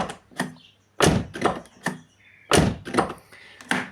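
Several heavy thunks of a car door being shut, in pairs and clusters, close to the mic with short quiet gaps between them.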